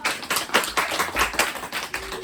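Church congregation clapping together at a birthday and dedication service, a steady run of quick overlapping handclaps in a room, fairly loud and close, with no talk over it.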